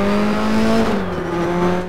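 A race car in the RaceRoom racing sim brakes hard into the first hairpin with its front wheels locking. A loud, steady engine drone sags in pitch as it slows, with a faint tyre scrub and no voices.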